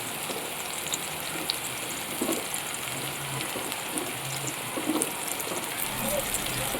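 Marinated chicken cooking in oil in a covered pan, a soft continuous sizzle and bubbling with light patter, fairly quiet and even, with no clear speech.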